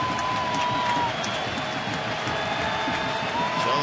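Baseball stadium crowd at an Oakland home game against Seattle, a steady, loud wash of cheering and applause filling the space, with broadcast commentary voices faintly under the roar.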